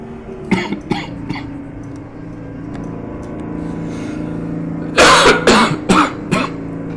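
A few short coughs early on, then a louder burst of harsh coughing and throat clearing over a steady Detroit Diesel 6V92 truck engine hum in American Truck Simulator.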